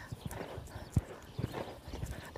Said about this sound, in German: So, wieder galoppieren lassen.